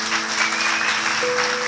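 A church congregation breaks into applause, a close, steady wash of many hands clapping together, with a sustained tone humming underneath.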